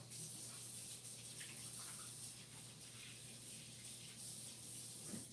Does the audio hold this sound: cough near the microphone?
no